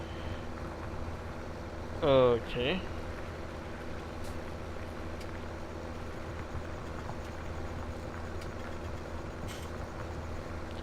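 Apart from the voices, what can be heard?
tractor engine in video game Farming Simulator 17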